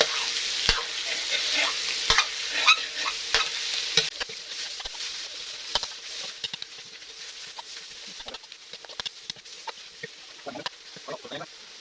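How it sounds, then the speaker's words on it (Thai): Chili and pork stir-fried in a pan for a pumpkin and pork curry, a continuous bright sizzle with frequent spatula scrapes and taps, close up, the frying hiss thinning toward the end. "เราคั่วพริกกับหมูให้หอม"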